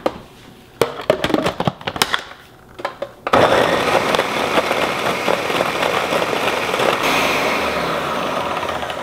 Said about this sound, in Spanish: esto fue licuado por más o menos un minuto a velocidad alta